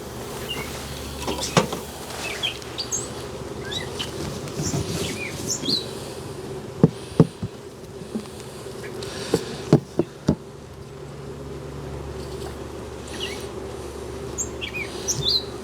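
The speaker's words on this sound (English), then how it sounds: "Yep, a lot of bees too." Steady, dense buzzing of many honey bees close by at an open hive during a cutout, a continuous drone with occasional sharp clicks and knocks.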